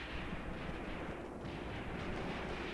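Artillery fire in the WWII video game Graviteam Tactics, Kharkov 1942: a dense, continuous rumbling barrage of overlapping distant booms, steady and loud throughout with no clear gaps.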